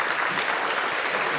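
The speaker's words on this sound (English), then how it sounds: "So please give a warm applause to Molenaar." Brief, steady applause from an audience at a talk on reinventing woodwind instruments at the WHY 2025 event, a continuous wash of clapping at moderate distance.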